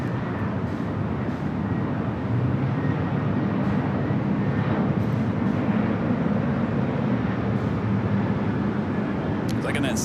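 A Singapore Airlines Boeing 777-300ER taxis at LAX toward runway 24 left, its engines giving a steady, fairly loud low roar that holds throughout, with indistinct talk underneath.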